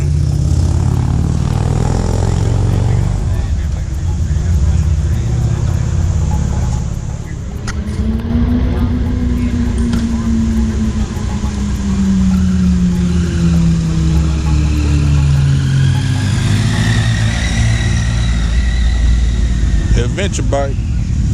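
A Vanderhall three-wheeler rides along the Dragon road, its engine droning loud and steady with wind rush throughout, the pitch rising and falling as it works through the bends, while a voice talks over it.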